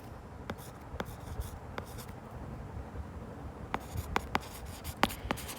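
Pen or marker strokes writing a point down by hand during a Haryana education lesson, a run of soft scratchy taps and short strokes, sparse at first then quicker near the end, close and fairly quiet with no talk.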